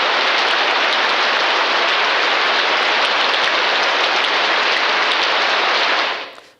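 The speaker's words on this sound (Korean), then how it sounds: "비는 더 거세게 내렸습니다" Heavy rain pours down as a dense, loud, unbroken roaring hiss that holds steady for about six seconds before quickly fading out, with no voices.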